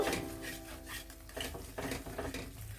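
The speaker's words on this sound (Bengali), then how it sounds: "ভালো করে মশলাটা কষিয়ে নেব খুশবু আসা পর্যন্ত" Masala with ground cumin is stirred and scraped in a pan for a Bengali cauliflower roast. Soft, steady rubbing and clinking strokes continue throughout, with a faint tonal hum in the background.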